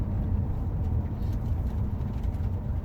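A remapped Saab 9-5 2.3T Aero drives out on the road, heard from inside as a steady low engine and road rumble with soft wind hiss.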